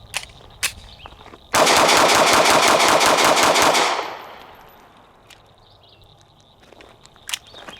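Rapid burst of shots from a Taurus PT111 G2C 9mm pistol, loud and close, running about two and a half seconds before fading out, with a few isolated clanks before and after.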